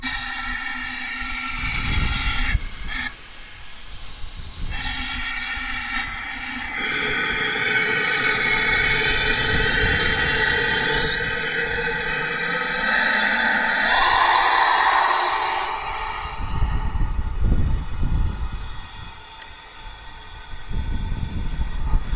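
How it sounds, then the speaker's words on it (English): Air compressor forcing pressure into the cylinder of a diesel Toro lawnmower engine, a steady loud hiss and rush of air running for many seconds, with a rising tone mid-clip and knocks near the end. "got the old compressor out, and let's try putting some PSI in this guy"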